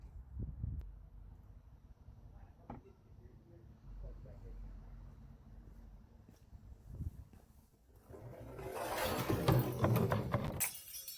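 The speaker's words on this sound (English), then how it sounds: "Yeah, so that's one way to break a glass." A glass breaks with a bright, loud shatter near the end, following quieter stretches of low rumble and a few faint knocks.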